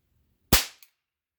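A homemade small pistol primer pops once, sharp and loud, with a quick decaying tail and a faint second crack just after, alone in a quiet space.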